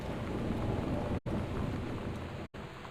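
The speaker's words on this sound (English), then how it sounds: "Boy, that thunder is annoying." Thunder and steady rain in the horror video game Escape from Ghost Mansion, a loud continuous downpour with rumbling thunder and two brief cutouts.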